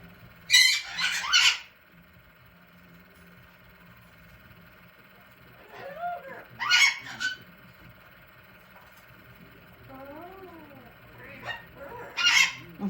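Goose-like honking calls come in three loud bursts, near the start, around six to seven seconds and near the end, each a cluster of harsh honks, with faint talk in the background between them.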